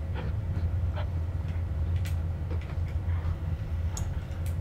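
Train rolling past in the horror game Penumbra: Overture, a steady low rumble with faint rhythmic clicks and rattles, continuous and fairly distant, no talking.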